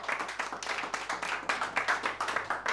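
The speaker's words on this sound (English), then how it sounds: "Let's give the Lord a round of applause and appreciate it for this session." A church congregation claps after a session, a brief burst of moderately loud, scattered rhythmic handclaps from many people nearby.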